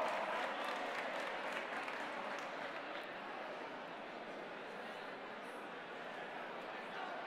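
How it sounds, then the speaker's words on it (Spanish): Sustained audience applause at a robot sumo final in a robotics competition, a dense, steady wash of clapping from a crowd that holds evenly for several seconds, with faint crowd murmur underneath. "Un fuerte aplauso."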